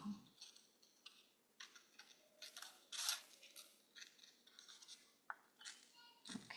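Scissors snip through paper while cutting out a piece for a spring birdhouse craft, a series of short, quiet crisp cuts spaced irregularly with small rustles of paper between them, close and alone.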